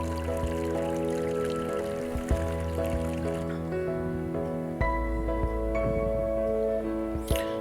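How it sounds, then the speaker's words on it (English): A soda spring creek running through a grassy park, a continuous gentle trickle and burble of flowing water with a steady hum beneath and occasional small splashes, heard without any talking. "A soda creek itself flows basically through the park"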